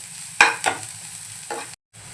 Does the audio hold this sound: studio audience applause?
no